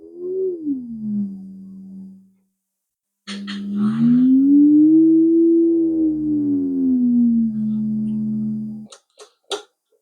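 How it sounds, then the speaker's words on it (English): A signal generator drives a steady test tone through the speaker of a Stella ST234A valve radio. The pure tone is close and clear, bending up and down in pitch, with a short pause and a few clicks near the end. "I've now connected a signal generator to that transformer."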